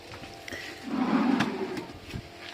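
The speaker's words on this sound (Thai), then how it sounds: "ลิ้นชักสองข้าง" A wooden drawer slides open and shut beneath the bed platform of a budget camper van conversion, a low rumbling glide with a soft knock, close and fairly quiet, with no talking.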